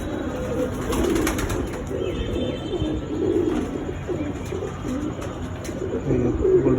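Domestic pigeons coo steadily in a loft, including a hen brooding on her eggs, with soft repeated throaty calls layered over a constant low murmur from many birds nearby.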